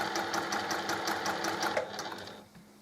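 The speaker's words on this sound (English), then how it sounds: "I am going to do another line of stitching, 1/4 inch away" A sewing machine runs a quarter-inch line of stitching along a pinwheel quilt block seam, a rapid, steady needle clatter close by that winds down and stops near the end.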